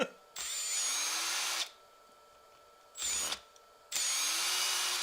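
A power screwdriver backs screws out of a Kraton 6S RC car chassis in three close, whirring bursts, the first and last longer, with short quiet pauses between them.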